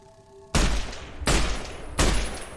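Gunfire in the Fallout: New Vegas video game comes as three loud, booming shots spaced under a second apart, each trailing off into a rumbling decay.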